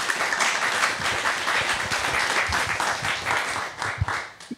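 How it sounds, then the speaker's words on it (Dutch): A live studio audience at a Dutch talk-show discussion gives sustained, full applause that stays steady and loud before thinning out toward the end. "En mag ik een heel hartelijk applaus, alsjeblieft."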